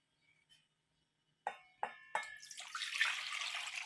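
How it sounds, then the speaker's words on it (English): Whole milk pours into a bowl for traditional German pancake batter, starting with a few clinks of the container against the rim, then a steady liquid stream that builds into a continuous close splash, fairly quiet, with no talking. "We're gonna add our milk."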